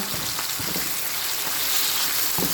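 Menudo apritada mix sizzles steadily in a pan, a constant bright frying hiss with a few soft clicks and stirring scrapes.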